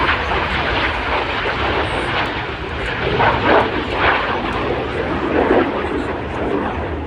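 RAF Red Arrows jets flying a display at the International Ayr Show, a barrel roll into inverted flight: a steady, loud broadband jet roar that swells and fades in waves across the whole stretch, with no voices.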